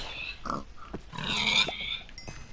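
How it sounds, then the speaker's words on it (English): Pigs oinking in the Minecraft video game, several short grunting squeals spaced across a couple of seconds, fairly close and clear with no talk over them. "Sorry, pigs, but I'm gonna have to kill you."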